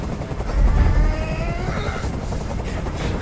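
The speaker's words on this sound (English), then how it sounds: "I can't stand that noise anymore. Tell that helicopter to get out of here." A helicopter in the video game Detroit: Become Human thrums with a low rotor rumble beneath game sounds and tense voices, swelling briefly before holding steady.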